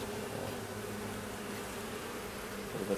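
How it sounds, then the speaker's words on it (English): Honey bees buzz during a fall beehive inspection with frames lifted out, a steady, close, low drone that stays even and moderately quiet without pause, with no voices. "There's a fair number of bees"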